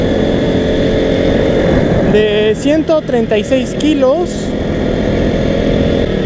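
A KTM RC 200 motorcycle engine drones steadily while someone speaks over it, the steady engine noise continuing beneath his voice at close range.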